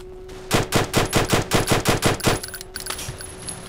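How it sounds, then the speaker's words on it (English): Machine gun turret in the voxel tower-defense game Super Voxel World firing a rapid burst of about a dozen loud, evenly spaced shots, then trailing off into scattered fainter impacts. "Throw us another machine gun turret down"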